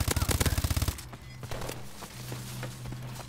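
Automatic gunfire in Call of Duty Advanced Warfare: a rapid burst of about a dozen evenly spaced shots for roughly a second, then quieter scattered game sounds over a low hum.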